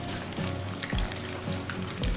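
Arancini rice balls frying in oil in a pan or fryer, a steady close crackling sizzle with scattered pops and a low hum underneath, no voices.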